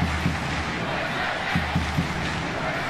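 A stadium crowd at a 2017 Tournament of Nations women's soccer match between the US and Australia roars in a steady, dense wash of cheering, with a few louder shouts swelling out of the crowd noise.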